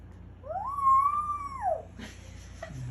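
A voice imitates a dog's howl, a single rising and falling tone held for over a second, followed by faint noises.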